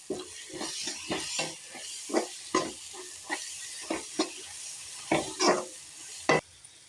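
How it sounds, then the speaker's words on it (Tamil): Masala sautéing in a pan for eggplant curry: a soft steady sizzle punctuated by repeated scraping stirs of a spatula, about a dozen strokes at an uneven rhythm. "மசாலாவோட பச்சை வாசனை போகிற வரைக்கும் நல்லா வதக்கிக்கலாம்"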